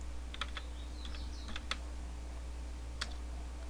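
Scattered keystrokes on a computer keyboard while Pascal code is typed, a few quick clicks in short bursts, close and fairly quiet over a steady low hum.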